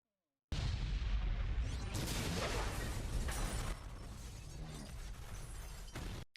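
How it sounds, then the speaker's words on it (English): A loud movie explosion from Hot Fuzz bursts suddenly out of silence, then roars and crackles with debris and rumble for several seconds before settling into a lower, fading tail. "That's a good explosion."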